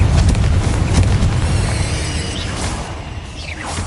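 A fiery Confringo spell blast in the Hogwarts Legacy game, a loud booming burst with a whooshing rush that tails off over a few seconds.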